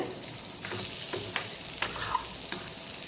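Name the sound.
potatoes frying on a low flame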